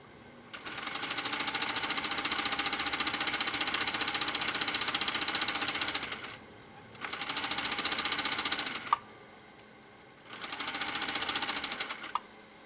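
A vintage sewing machine motor, run through a foot controller and apparently in trouble, whirs loudly and steadily in three bursts, one long and two shorter, with brief quiet gaps and small clicks between them.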